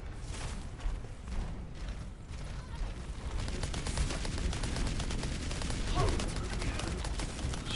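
Rapid gunfire rattles in the shooter game Overwatch, a steady fusillade of mechanical shots that grows denser partway through, with talk mixed in.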